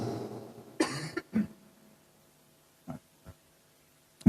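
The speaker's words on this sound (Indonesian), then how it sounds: "saya agak batuk sedikit" A few short coughs and throat-clearing sounds, close and quiet, separated by pauses of silence.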